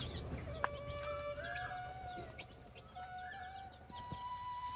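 Young chicks on a farm give thin, high repeated peeps and clucks, several overlapping calls that rise and fall over a faint outdoor background, fairly quiet and with no talking.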